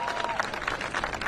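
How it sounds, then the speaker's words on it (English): An audience at a political rally applauds steadily, a dense wash of clapping from a crowd with no break. "Give us another round of applause for Congressman Tom Tiffany."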